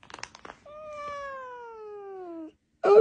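A cat gives one long, drawn-out protesting meow that slides downward in pitch as an ice pack is taken from it, preceded by a few short rustles and followed by a sharp noisy burst.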